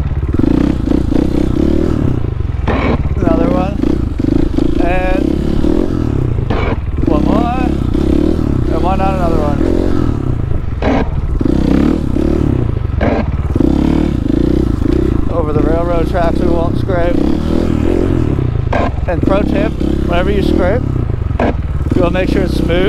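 A motorcycle held up in a wheelie, its engine droning loud and steady while the rear scrapes the pavement in repeated harsh grinding bursts, with someone talking over the noise.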